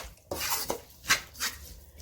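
Breadfruit porridge (ukwa) with sweet corn and oil bean, stirred in a pot, gives a few brief utensil scrapes and knocks against the pot, quiet and close with gaps between strokes.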